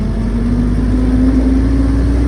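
A Jeep engine runs steadily while driving through a turn, giving a loud, constant low hum with a droning mid-range tone that holds throughout, with no voices.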